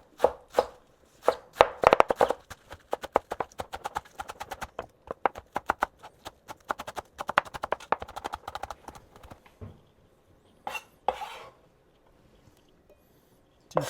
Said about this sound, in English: I don't really like cutting green onions